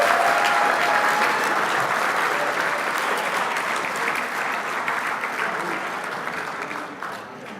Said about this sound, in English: Make sure that applause is loud and proud.